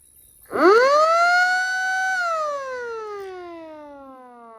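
A mechanical siren on a Jeep CJ-5 spins up sharply to a loud, steady wail, holds briefly, then winds down slowly in pitch as it fades.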